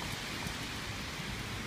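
Steady rain falling outside, a dense even hiss with a low rumble beneath, moderately quiet and unbroken by any talk.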